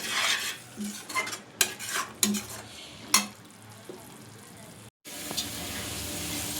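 Chickpeas (chole) being stirred and fried in masala in a pan, with a series of clinking spoon-against-pan scrapes and soft sizzling, fairly close, and no talking.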